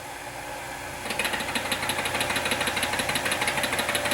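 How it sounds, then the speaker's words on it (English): An auto sparge pump in a home brewing system runs with a rapid, regular pulsing chug and a high-pitched buzz, starting after a second of lower hum and continuing steadily, close up. "that's the auto sparge trying to operate in less than optimal volumes of liquid"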